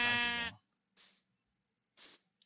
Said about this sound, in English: What's up, sheep?